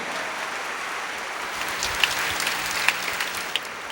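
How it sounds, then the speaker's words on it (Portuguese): A church congregation applauding during a Catholic Mass in Portuguese, a steady wash of many hands clapping together, fairly close and continuous, with a few sharper individual claps standing out. "Vamos aplaudir a palavra."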